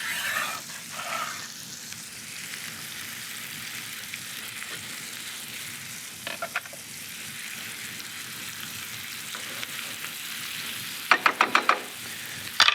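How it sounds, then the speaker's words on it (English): Onions sizzle and fry steadily in hot oil in a pan, a constant close crackling hiss with a few light clinks near the end. "we're gonna throw our onions right into that oil, and we're gonna start to cook this down"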